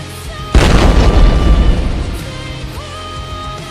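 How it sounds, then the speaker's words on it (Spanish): A loud explosion erupts suddenly as a heavy, broadband boom, then rumbles and slowly decays over the following seconds. No one speaks. "Una fuerte explosión se ejecutó por toda el área."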